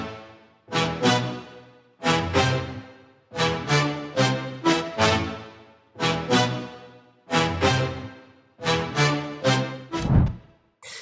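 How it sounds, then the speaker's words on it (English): A trumpet line sampled from an original Afrobeat song plays in short repeated bright phrases, loud and clear with no talking. "Then I sampled the original trumpet from the song itself."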